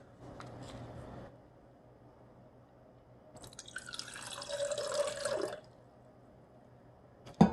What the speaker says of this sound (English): Add some water to this.